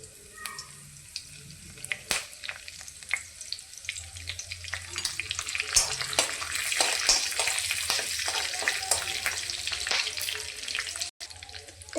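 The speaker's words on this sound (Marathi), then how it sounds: "तेल गरम झालेलं आहे. त्याच्यामध्ये जिरी मोहरी टाकून घेऊया." Cumin and mustard seeds crackle and sizzle in hot oil for a dal tempering, with sharp pops over a steady frying hiss that builds, and no talk.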